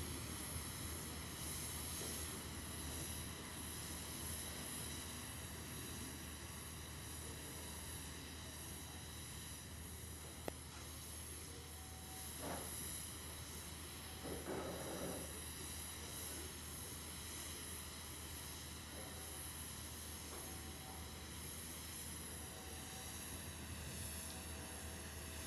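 Boeing 777 aircraft engines at an airport, a steady, continuous jet whine and broad rumble sustained throughout at moderate distance, with faint background activity and no talk.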